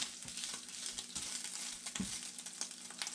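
Bacon sizzling in hot oil in a pan, a steady close crackling hiss with small pops and occasional stirring clicks, alone without talk.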